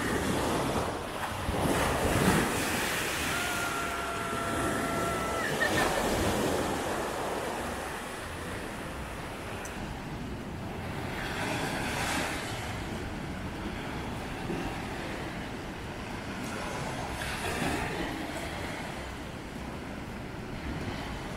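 Ocean surf rolling onto a beach at Walermuten, a broad continuous wash of breaking waves with gusty wind buffeting the microphone, swelling and easing in slow surges, no voices.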